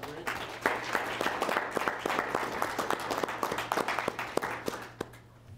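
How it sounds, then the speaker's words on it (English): An audience at a hospital grand rounds lecture applauds, a dense patter of many hands clapping steadily for several seconds before fading out, with no talk over it. "So if we can all give her a round of applause."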